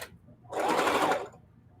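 A sewing machine runs a short, quick burst stitching a seam on a brick quilt block, a close whirring buzz lasting under a second against a quiet room.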